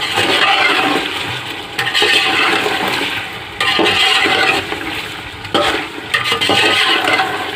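Spices, crushed chili, salt, turmeric and garam masala being stirred into chicken karahi, a loud, continuous wet churning and sizzling with scraping sweeps that pause briefly between strokes.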